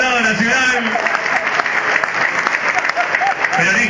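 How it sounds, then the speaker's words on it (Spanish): An audience at a political gathering in Argentina applauds a national deputy, loud continuous clapping with a voice speaking over it. "Un fuerte aplauso para el compañero"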